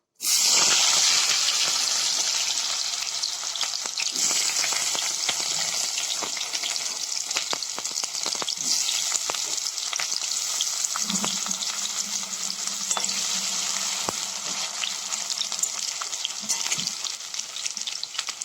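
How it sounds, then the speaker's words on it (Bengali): Potatoes fry in hot oil in a wok with a loud, continuous sizzle lasting many seconds, broken by occasional clinks and scrapes of stirring. "তো এটা এখন কড়াইতে দিয়ে দেবো। কড়াইয়ের তেলে একটু ভাজা ভাজা করে"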